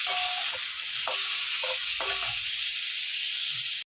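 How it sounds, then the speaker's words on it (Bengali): Cauliflower fries in oil for a snakehead fish curry, with a continuous close hiss of sizzling and a few short tonal chirps from elsewhere near the start. "আর এখানে শোল মাছের রসা করার জন্য ফুলকপিটা ভাজা হচ্ছে।"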